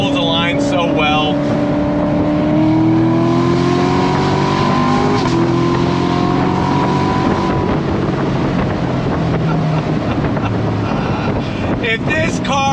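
A C7 Corvette Grand Sport V8 sports car accelerates and cruises, its engine note rising and shifting through gears at close range amid heavy wind rush, with a voice briefly heard at the start and end.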